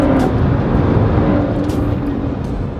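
Turbocharged car accelerating hard through quick gear shifts, a loud dense engine roar with brief breaks at each shift, steady and close with no talk.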